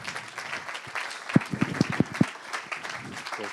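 An audience applauds to welcome a speaker at a corporate launch event, with moderate clapping from a crowd and a few louder close claps standing out.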